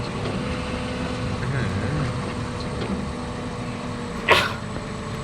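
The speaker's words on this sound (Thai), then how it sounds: "ไปจามนิดนึงครับ" A single short sneeze bursts out near the end, heard over a steady background engine drone from the Construction Simulator 2 game.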